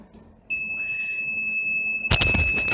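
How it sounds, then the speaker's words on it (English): A continuous high-pitched electronic buzzer tone switches on and holds steadily, then a sudden burst of broadband noise joins it near the end. "The buzzer has started making a sound"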